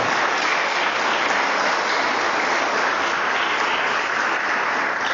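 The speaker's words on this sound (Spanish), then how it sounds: "¿Cuántos le dan un fuerte aplauso al Señor entonces por su palabra en esta tarde?" Sustained applause from a church congregation, dense and steady clapping filling the space for several seconds without pause.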